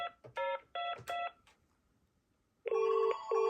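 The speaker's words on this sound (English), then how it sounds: "But the ring tone is the double ring that we hear in the UK, Ireland, Australia, New Zealand." A UK-style telephone ring tone sounds as a double ring, two quick tone bursts in a row, clear and loud. Shorter telephone signalling tones come first, followed by a brief quiet gap.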